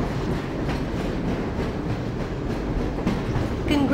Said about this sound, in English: Press your use key to engage the train.